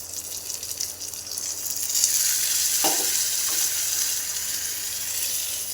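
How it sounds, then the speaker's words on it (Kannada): Hot tempering is poured onto curd rice in a home kitchen, giving a soft hiss that swells into a sharp sizzle midway and then settles, fairly faint, with a light clink. "ಒಗ್ಗರಣೆ ಸೇರಿಸ್ಕೊಂಬಿಡೋಣ ಈ ಥರ"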